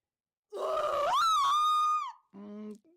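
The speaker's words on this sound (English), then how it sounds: "to perform her signature scream at a local convention for monster movie fans." A woman's loud, drawn-out scream from the video game What Remains of Edith Finch, a horror actress's signature scream rising in pitch and holding, then breaking off into a shorter, lower cry.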